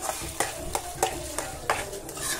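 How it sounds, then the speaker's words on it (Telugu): Fish egg fry cooking in a pan over a high flame, with a steady sizzle broken by a series of sharp scraping stirs roughly every third of a second, close and moderately loud, with no talking. "చూడండి ఫ్రెండ్స్, ఈ ఫ్రై అనేది హై ఫ్లేమ్లో పెట్టుకున్నాను."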